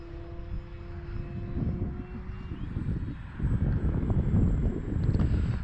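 An Arrows Trekker radio-controlled airplane passes low and slow along a runway, its propeller engine buzzing steadily and swelling louder as it nears, with gusts of wind noise on the microphone.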